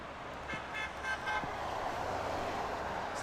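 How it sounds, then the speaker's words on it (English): A car horn toots several short times in a parking lot, fairly distant and moderately quiet, over a steady outdoor traffic hum. "Is that guy honking at me?"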